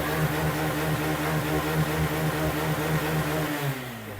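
A Hero Glamour BS6 motorcycle engine runs steadily at high RPM, a loud, continuous buzzing drone held near the mic, with the pitch dropping slightly as the throttle eases near the end.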